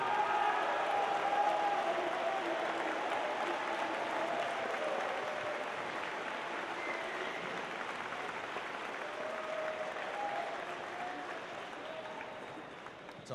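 A seated crowd at a robotics district event opening ceremony claps for award nominees, sustained even applause spread across a large hall that slowly tapers off over several seconds.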